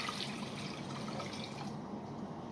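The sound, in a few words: water being poured into cups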